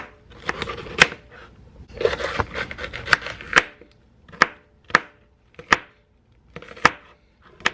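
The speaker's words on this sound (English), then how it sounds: "So 1 onion, 1 bell pepper, 2 stalks of celery, and about 3 sweet peppers. I'm going to chop all of that up" Onion, bell pepper, celery and sweet peppers being chopped on a cutting board at home: a series of sharp, close knife chops, quick clustered strokes at first, then slower evenly spaced single chops, with no talk.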